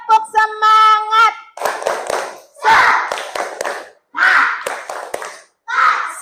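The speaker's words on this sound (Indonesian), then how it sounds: "Tepuk semangat." Children in a primary school classroom perform a rhythmic spirit clap, chanting in unison with bursts of claps between phrases, loud and close, with a teacher's voice leading.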